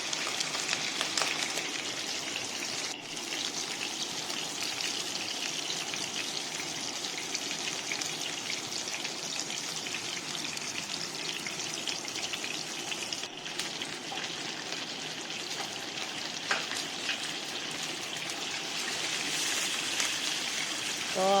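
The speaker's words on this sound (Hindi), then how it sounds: "हम शैलो फ्राई करेंगे कबाबों को।" Beef burger kebabs shallow-fry in about half a bowl of oil, crackling with a dense, even, rain-like sizzle that runs steadily throughout at close range, with no talking.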